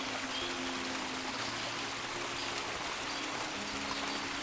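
A stream swollen and overflowing rushes over rocks below a bridge, a steady faint-to-moderate watery hiss with no breaks, alongside a low hum.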